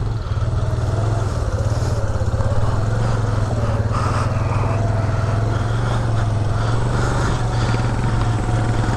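A Yamaha ATV, a Big Bear 400 or Bruin 350, idles and runs steadily in first gear on a test ride, its loud, continuous low engine drone close by and unbroken for the whole stretch.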